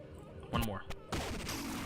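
Video game gunshots crack out in a few sharp bursts, a close blast near the middle, a brief report after it, then a longer rattle of fire, with a voice faintly underneath.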